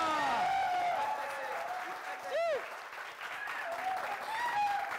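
A studio audience on a French-language television humour show applauds steadily for several seconds, with a presenter's voice and a brief electronic whoosh effect over the clapping.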